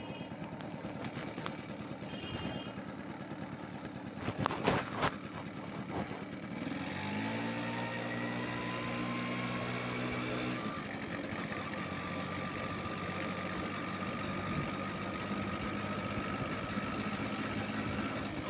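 Vehicle engines idle at an Indian petrol station with a steady, continuous drone, and a loud mechanical clatter comes near the start. One engine's hum rises in pitch partway through, then settles into a constant background rumble.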